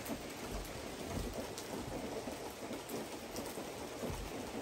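Steady rain falls on a spring day outside a traditional Japanese building, a soft continuous patter with scattered drops, fairly quiet and with no voices.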